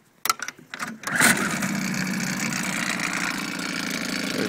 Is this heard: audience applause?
no